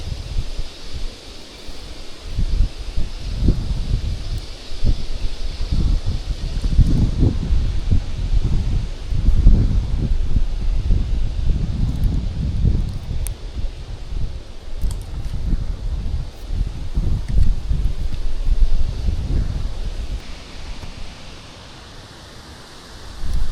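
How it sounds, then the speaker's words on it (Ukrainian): Strong, gusty wind roars continuously, with rustling leaves and heavy buffeting against the microphone that eases slightly near the end. "вітер стає шалений"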